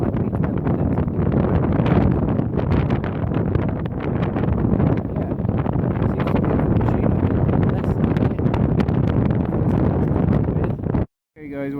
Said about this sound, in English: it's probably too windy for you to hear anything